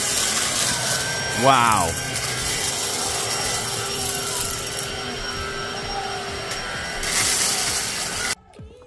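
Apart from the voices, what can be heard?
Black & Decker cordless stick vacuum sucking up coffee beans, cereal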